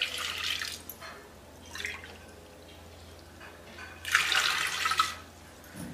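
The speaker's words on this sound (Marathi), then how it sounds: "मग दोन वाट्या पाणी घालू." Water poured from a cup onto lentils in a pressure cooker, two short splashing pours separated by a quieter stretch, close and moderately loud, no voices.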